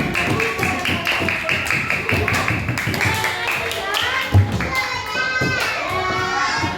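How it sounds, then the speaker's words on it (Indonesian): A class of children claps with rapid, dense taps under children's chatter and voices in a classroom, fairly loud and close. "tepuk tangan untuk teman kita yang sudah"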